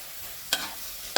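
Minced pork stir-frying in a pan with a little water and vegetable oil: a faint sizzle, with two quick scraping strokes of a spatula.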